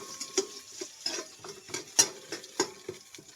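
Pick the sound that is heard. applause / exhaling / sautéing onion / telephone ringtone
sautéing onion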